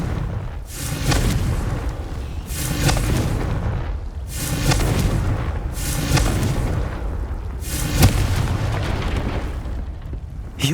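Repeated Confringo fire spell blasts in Hogwarts Legacy combat, four or five heavy booming explosions about two seconds apart over a dense, rumbling game soundscape.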